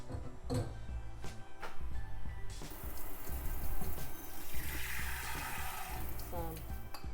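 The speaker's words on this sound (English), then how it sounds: "I'm going to rinse it out" Tap water runs and splashes in a sink while false lashes are rinsed, an uneven running stream with a few knocks and clatters, the flow growing fuller partway through.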